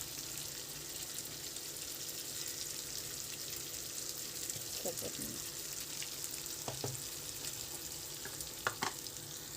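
Spicy chicken fries in a pan with homemade garam masala, giving a steady close sizzle and crackle, with occasional scraping of a utensil as it is stirred.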